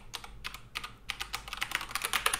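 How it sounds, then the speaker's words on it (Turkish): Rapid typing on an AKKO 3087 TKL mechanical keyboard with pink switches gives close, crisp clacks, first in small spaced bursts and then in a quicker, denser run, with no voices. "Bu mekanik switch"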